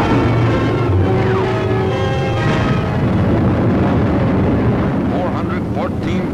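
Bombs dropped from a strategic bomber explode on a target, heard as a dense, continuous roar with falling whistle-like tones and rumbling blasts that stay loud throughout.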